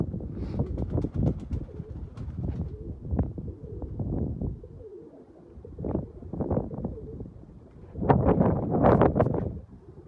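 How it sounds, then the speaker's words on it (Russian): Russian Orlik highflyer pigeons cooing in strong wind, a series of close, low throaty coos and flutters that come in clusters with quieter gaps between, loud and near. "Что-то пугаются голуби."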